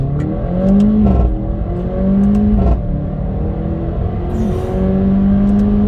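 A 2014 Mercedes-Benz A45 hot hatch's small engine climbs in pitch through several quick 7-speed gearshifts, each shift a brief dip before revving up again, loud and steady from inside the car.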